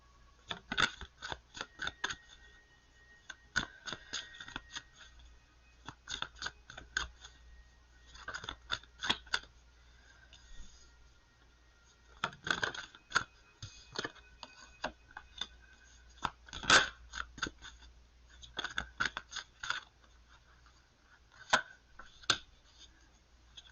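Tarot cards being shuffled by hand, sharp irregular riffling clicks and flicks in short bursts separated by pauses, close and fairly quiet.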